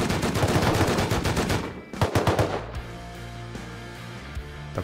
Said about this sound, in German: Die Bot schießen auf ihn.